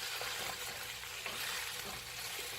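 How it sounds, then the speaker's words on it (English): Sliced kielbasa frying in a skillet, giving a steady, soft, continuous sizzle with a faint crackle throughout and no voices. "we kind of mix it all up now that the kielbasa is getting good and cooked"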